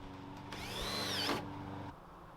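A power drill drives a screw into a pilot hole in lean-to trim, one close whirring burst about a second long that rises in pitch and bogs down as it seats, set against a steady background hum.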